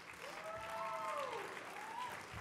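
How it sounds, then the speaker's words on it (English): An audience at an awards ceremony in a convention center applauds steadily with dense clapping, while a voice with gliding pitch rises briefly over the crowd. "A round of applause."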